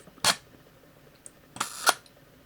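A Leica IIIb rangefinder camera's shutter firing during a check, one crisp mechanical click early, then a double snap of winding and release a second later, close and distinct against near silence.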